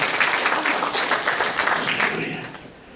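A church congregation applauds during a Good Friday sermon, a dense, steady wash of many hands clapping together at close range, holding loud before tapering off near the end.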